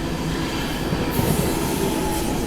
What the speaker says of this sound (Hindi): यहाँ पे ये ट्रेन एक और है जिसका अराइवल हो गया है, कानपुर की साइड जा रही है